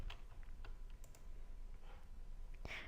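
Typing on a computer keyboard, a sparse run of light key clicks at uneven intervals over a quiet room hum, near and fairly faint, ending with a slightly louder tap.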